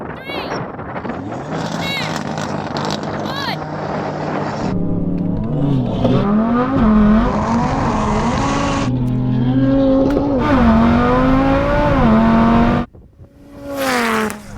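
A car engine revs and strains on a launch attempt in manual mode, pitch rising and wavering over sustained loud drone, with people talking over it before it suddenly drops off as the car fails to pull away with its engine management light on.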